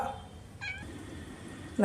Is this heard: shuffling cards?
no